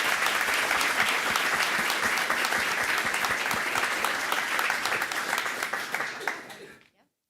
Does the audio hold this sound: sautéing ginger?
no